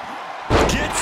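A wrestler slams down in the WWE 2K24 video game, a single sharp heavy impact that bursts out suddenly and rings on briefly.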